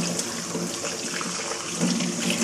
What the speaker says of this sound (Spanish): la vamos a lavar bien con agua